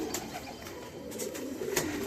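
Pigeons, racers and high flyers, coo softly in a loft, a few low, repeated calls close by over a quiet, steady background.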